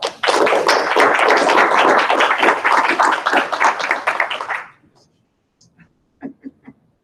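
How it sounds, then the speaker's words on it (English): Dense, loud applause fills a school board meeting room for about five seconds and then cuts off, followed by a few scattered taps and thumps in near silence. "I think Dr. Rudolph deserves a round of applause"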